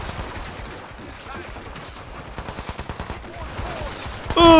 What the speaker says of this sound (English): Ah, these guys have some powerful guns.